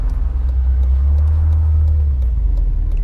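A Mercedes-Benz SL320 (R129) engine idles with a deep, steady rumble, then briefly swells with a light rev before settling back. It sounds close and continuous, with no talking.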